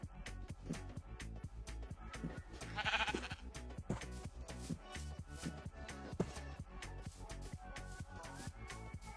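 Minecraft sheep bleating amid game sounds, a few short bleats standing out over rhythmic background music and clicks, moderately close with no speech.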